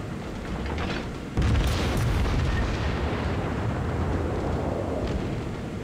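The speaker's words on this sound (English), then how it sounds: "My anti-aircraft gunners are working overtime as I try and get some hits on him" Anti-aircraft guns firing from the ship Amagi in the naval game World of Warships: a dense, continuous barrage of booming bursts that jumps louder partway through and then rumbles on without a break.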